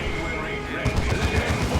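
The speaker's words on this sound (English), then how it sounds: "So the Psy Cannons are going to open fire." Psy Cannons opening fire in the Dawn of War II: Retribution strategy game, a burst of repeated booming shots starting partway through over a steady bed of battle noise, with commentator talk running underneath.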